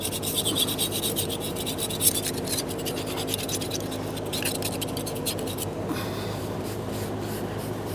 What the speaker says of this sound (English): we'll be continuing with a scraper and a rag, some parts cleaner directly on the rag